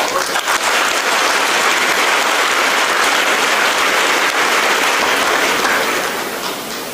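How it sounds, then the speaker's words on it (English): Clapping from an audience at a college stamp-release ceremony, loud and dense, sustained for several seconds before gradually thinning out toward the end. "Why do I get the feeling that the clap was very muted?"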